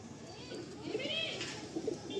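A Madrasi pigeon coos in short soft phrases while being handled, close by, under a low background murmur of people and room noise.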